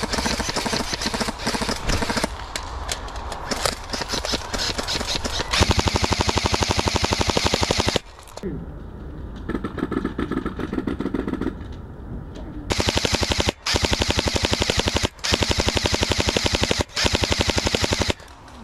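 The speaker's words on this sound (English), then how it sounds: "a group of friendlies decided to put down some suppressing fire, allowing us some opportunity to move and maybe fire back" Airsoft guns fire long rapid bursts of suppressing fire at an indoor woodland-style site, with dense mechanical chatter broken by brief pauses and quieter stretches of background clatter.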